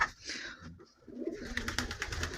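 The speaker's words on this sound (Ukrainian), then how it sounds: "Перші, до кого завітала, то це голуби." Pigeons coo softly in short, low bursts, with some rustling and background noise around them; no one speaks.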